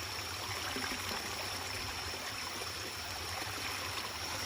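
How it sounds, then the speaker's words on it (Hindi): Clean spring water flows in the mountains of Japan, a steady close rushing and trickling that stays even throughout with no voices. "ये जो जापान के अच्छे साफ़ पानियों में से एक पानी यहाँ पे है।"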